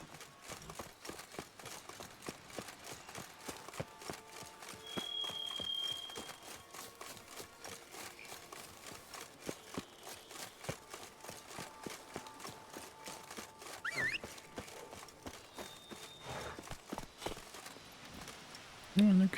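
Roach the horse's hooves in The Witcher 3 clip-clop in a steady, quick rhythm, moderately loud beneath intermittent talking and game music.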